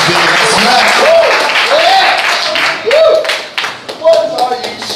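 A crowd at an open mic night in a Red Lobster restaurant keeps up loud, sustained applause as someone talks over it through much of the stretch, with the clapping swelling and thinning in bursts.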